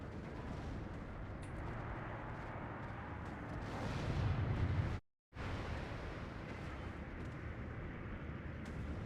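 Artillery fire in the strategy game Steel Division II, a continuous dense rumble of distant shelling and booms with a heavier burst near the middle, then a brief dropout of silence before the barrage continues.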